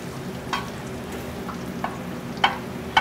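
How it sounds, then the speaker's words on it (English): Garlic browning in heated oil in a pan, a quiet steady sizzle and crackle with a few sharp pops and stirring scrapes over a few seconds, heard alone without talk. "to brown the garlic, if you got the oil or butter heated, it shouldn't take more than a minute or two to get it brown"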